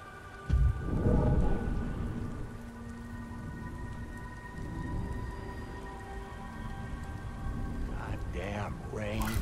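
Heavy rain and rolling thunder in the Beyond Two Souls video game, a loud rumble near the start fading into a steady downpour, with a voice briefly speaking near the end.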